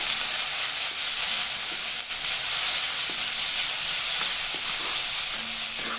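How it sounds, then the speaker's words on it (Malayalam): Sliced onions with salt fry in a pan for chicken perattu, a loud steady sizzle and hiss throughout, with faint scrapes and taps of a spoon as they are stirred. "ഇളക്കി മിക്സ് ചെയ്യാം"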